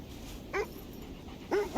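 A dog in the video game Kona 2 gives a few short whimpers and yips over a quiet low hum, with no voices.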